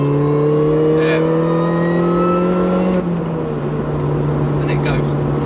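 A Mini fitted with a de-resonated standard JCW GP exhaust and a Jan Speed 4x1 manifold pulls hard, its engine note climbing steadily in pitch before a gear change drops it back, loud and close throughout.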